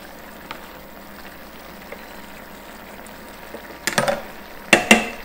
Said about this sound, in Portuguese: Raspa o fundo.